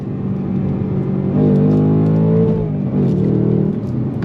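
A 2024 Ford Mustang GT V8 accelerating on throttle, engine note climbing loud and close with a steady rising roar, a brief dip near the end before pulling again.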